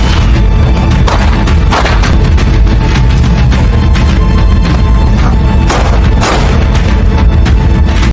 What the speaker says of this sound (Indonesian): Terjadilah baku tembak ketua pasukan bayaran dengan Mickey